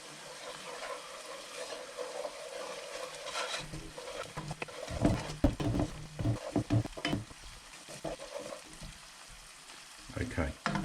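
Tomato sauce is stirred in a pan over low heat, with a soft scraping and gentle sizzle that rises into quicker, busier stirring strokes in the middle, all close by and fairly quiet.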